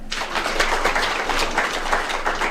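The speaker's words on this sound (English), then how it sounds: "Can we give them a clap?" Audience applause at an International Women's Day commemoration, a dense, steady wash of many hands clapping that fills the whole stretch at an even, fairly loud level.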